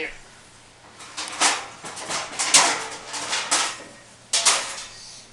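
A metal sheet pan is handled in a kitchen and slid into an oven, making a run of sharp clanks and scraping knocks of varying loudness over several seconds.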